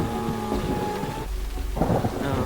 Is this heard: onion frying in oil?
no